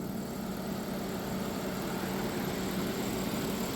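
A 1997 Dodge Grand Caravan SE, left sitting on a farm for over four years, idles steadily just after restarting, its low engine rumble constant and close with no talk over it.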